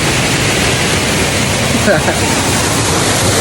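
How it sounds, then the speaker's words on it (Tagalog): Loud, steady broadband roar of a waterfall in nature, close and unbroken, with a voice briefly heard partway through. "So itong falls na to, very nature talaga."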